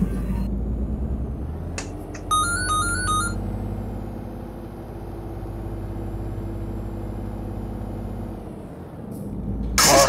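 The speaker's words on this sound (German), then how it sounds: "Er klingelt ein Telefon." A telephone rings inside a truck cab during a convoy drive, a short burst of bright electronic tones over a steady engine and road rumble.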